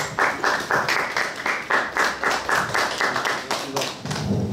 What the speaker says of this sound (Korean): 이갑주 회장님 뜨거운 박수로 환영해 주시기 바랍니다